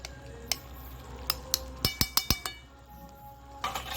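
A spoon clinks against a metal pot while a spoonful of homemade ghee goes into a prawn and jackfruit curry, with a few light taps followed by a quick cluster of sharp, close clinks and no talking.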